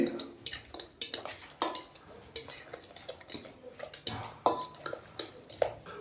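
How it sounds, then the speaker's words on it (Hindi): Eggs being whisked with a spoon for a masala omelette, quick irregular clinks and scrapes of metal against a bowl, close and fairly quiet, with brief pauses between bursts. "अंडे डालने के बाद अभी दोबारा से अच्छे से हम इनको मिक्स कर देंगे"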